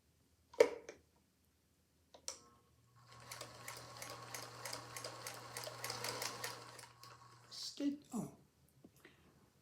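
Sewing machine stitching around a paper-pieced quilt block, a quick rhythmic run of needle clatter lasting a few seconds, framed by soft handling noises and brief paper rustles.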